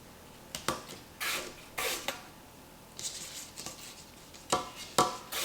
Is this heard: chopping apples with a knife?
yes